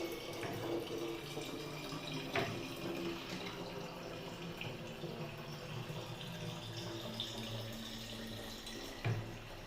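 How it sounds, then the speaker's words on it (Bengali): Water running from a tap into a container at home, a steady rushing flow with faint splashing and a couple of knocks, fairly quiet throughout with no clear talk. "জল সবসময় ভরে রেখে দেবে আমি ভরে রাখার চেষ্টাও করি"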